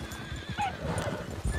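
Horse hooves clip-clop in quick rhythm with a short whinny in the game Red Dead Redemption 2, clear and close, with no talking.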